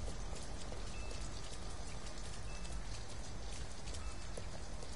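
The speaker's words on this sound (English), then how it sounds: "At least we'd be out of the rain." Steady, dense rain in the video game Detroit: Become Human, a continuous even hiss of falling drops with no pauses, heard alone without voices.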